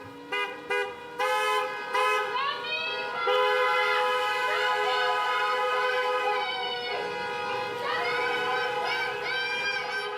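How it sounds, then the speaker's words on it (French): Several car horns honk in a town square as unmarked ICE vehicles pass, starting with short separate toots, then long overlapping blasts that swell and fade, with no one talking. "Des citoyens qui klaxonnent, d'autres qui filment."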